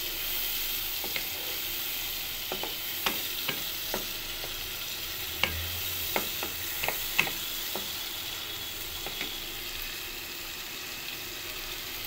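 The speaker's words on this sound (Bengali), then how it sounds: "মশলাটা কিছুক্ষণ কষিয়ে নিব ভালোভাবে।" Spice masala for cauliflower curry fries in oil under a soft continuous sizzle, with a spoon scraping and tapping the pan in irregular strokes close by.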